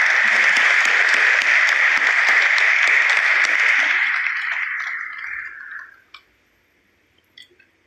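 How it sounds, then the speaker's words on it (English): Loud, dense applause from an audience at a stock exchange IPO listing ceremony, sustained for several seconds before tapering off into silence with a couple of stray claps. "Thunderous round of applause."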